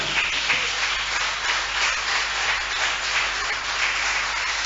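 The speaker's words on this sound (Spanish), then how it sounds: "¿Cuántos le dan un fuerte aplauso al Señor?" A church congregation applauds during a sermon, dense and steady clapping from many people, loud and sustained with no speech over it.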